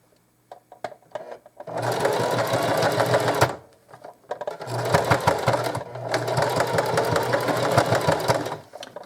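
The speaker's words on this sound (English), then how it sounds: "Here's my strap. I'm going to double stitch that." A sewing machine double stitching an apron strap runs in two close, steady motor bursts with a brief pause between them and some faint handling clicks before it starts.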